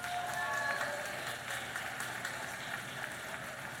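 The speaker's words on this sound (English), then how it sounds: "Students, why don't you give your families and friends a round of applause?" Applause from families and students fills a graduation ceremony hall, a dense, steady wash of clapping with crowd murmur, fairly distant and sustained throughout with a faint voice briefly audible near the start.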